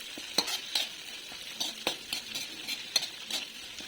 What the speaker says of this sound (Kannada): ಕರಿಬೇವು ಇದನ್ನು ಆ್ಯಡ್ ಮಾಡಿಕೊಂಡು ಹುರ್ಕೋಬೇಕಾಗುತ್ತೆ.